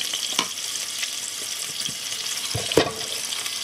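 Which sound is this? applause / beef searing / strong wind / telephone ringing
beef searing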